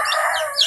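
Chicks peep in a loud, continuous high-pitched chorus at close range, the calls rising near the end.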